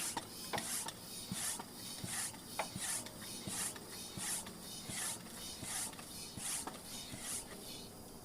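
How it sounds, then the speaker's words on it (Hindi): A hand pump forces air into a plastic water bottle rocket, giving a steady rhythm of soft rasping strokes, each with a faint airy hiss, repeating about every 0.7 seconds at close range and low volume. "तो अब हम इसको लगाते हैं बोतल के ऊपर ऐसे, और अब हम इसमें भरते हैं हवा।"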